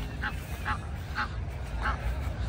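Several short honking quacks from a duck being urged to run, spaced irregularly over a steady low background rumble.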